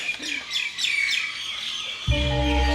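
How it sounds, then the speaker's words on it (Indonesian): Repeated high, rhythmic guineafowl calls ring out in quick succession at a bird park, followed by a sudden louder, sustained harsh hum at the end. "Ini burung apa Mbak? Ini ayam mutiara."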